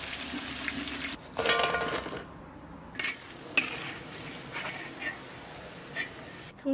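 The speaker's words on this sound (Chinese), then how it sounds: "蒜子先拉下油。" Garlic cloves fry in hot oil in a wok, giving a steady broadband sizzle with a few clinks and scrapes of a utensil against the pan. No one speaks.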